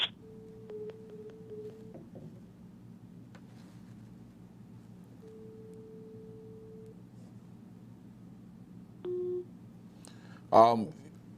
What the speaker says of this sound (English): that was Gabonese still trying to connect.